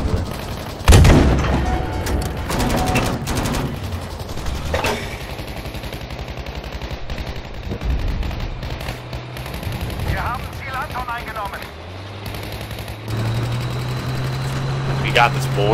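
Bursts of rapid gunfire and loud booms in a Battlefield V battle, mixed with shouting voices and engine rumble, dense and close throughout.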